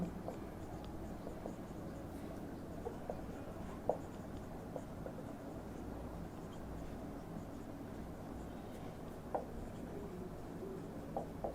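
Pen scratches during a chemical kinetics lecture come as faint, sparse taps and strokes over a steady low background hum, with no talking.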